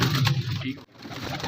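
Pigeons at the Shahdara pigeon market in Lahore give low, close cooing amid market bustle, with a short break partway through.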